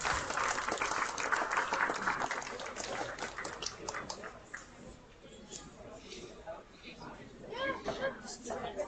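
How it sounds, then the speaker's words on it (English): A round of applause for hog show exhibitors in a county fair swine ring, strongest at first, then thinning into scattered clapping as a voice speaks over it. "Let's go ahead and give those exhibitors a nice round of applause"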